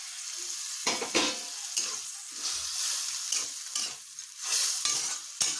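Fried small fish for a tomato chorchori being stirred in a pan, repeated close scraping strokes over an ongoing sizzle, rhythmic and steady with no speech.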